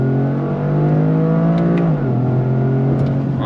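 A 2025 Toyota GR Corolla with the 8-speed automatic accelerates under throttle from inside the cabin, its engine droning loud and rising, then dipping briefly at a shift before pulling on.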